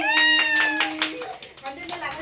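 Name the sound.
hand clapping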